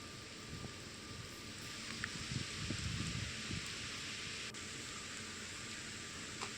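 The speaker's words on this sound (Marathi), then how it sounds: "मुसळधार पाऊस कोसळण्याचं प्रमाण हे आतापर्यंत कायम आहे" Heavy monsoon rain falls in western Satara district as a steady, even hiss of downpour, fairly faint, with a brief denser patch of patter in the middle and no voices.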